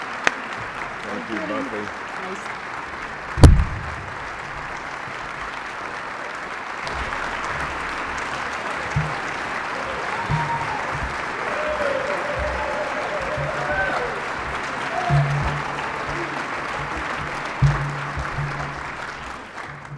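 An audience at the Virginia Beach State of the City Address applauds as the mayor is welcomed; a sustained crowd clapping swell with a sharp thump early on, while someone speaks briefly over it.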